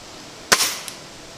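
An air rifle firing a Sig Sauer Match pellet at a 50-yard target gives one sharp, close crack followed by a brief fading tail and a faint later tick.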